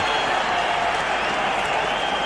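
Cricket crowd at a Cape Town test match applauding steadily, a dense continuous wash of clapping from a large stadium audience with faint voices mixed in.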